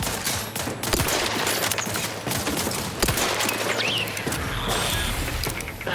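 Dense, continuous gunfire in the shooter game Outer Worlds 2: overlapping bursts and single shots rattle nonstop at close range, with sharper loud cracks near the start and at three seconds, set against a steady low rumble.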